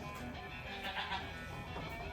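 A goat gives a drawn-out bleat while being held for hoof trimming, a single wavering cry set against a dense, noisy background.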